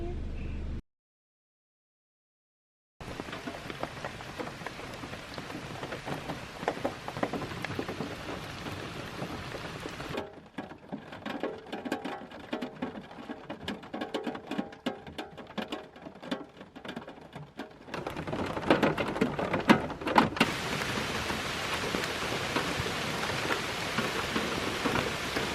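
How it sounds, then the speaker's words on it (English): Steady rain falling around a campsite, a dense patter on surfaces that runs on for a long stretch, with a short silent gap near the start and the downpour growing louder toward the end. "It started raining as soon as I got to my campsite"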